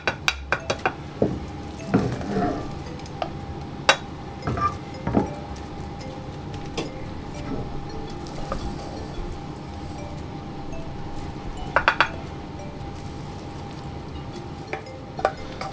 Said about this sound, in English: And just spread this out as evenly as I can.